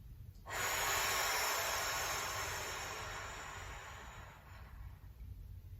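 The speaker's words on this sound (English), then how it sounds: "Let's breathe." One long, audible exhale during a Pilates stretch rushes out close to the microphone for several seconds and then fades into a quiet room.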